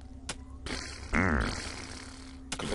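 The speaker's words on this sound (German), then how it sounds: "Zwei Pupser." Monsters in the Starbound video game let out two wet, fart-like blasts, the second a loud sputtering burst lasting about a second, with game noise around them.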